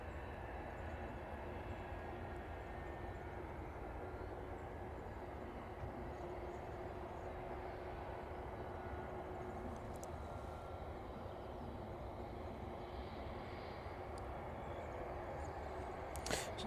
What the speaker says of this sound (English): 737 is making its way to the runway then